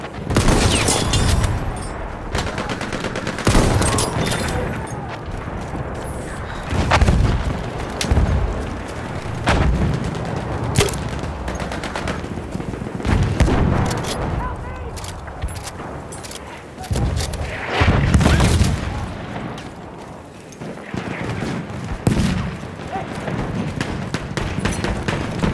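Machine gun fire in Battlefield 1, a World War I shooter: dense, continuous bursts of rapid gunfire with loud booming artillery impacts mixed in, sustained throughout at close to mid range.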